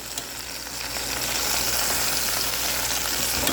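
Steady, loud sizzling of chicken pieces browning in a hot pot, a continuous crackling hiss with no voices.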